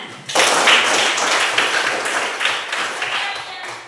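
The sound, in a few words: classroom applause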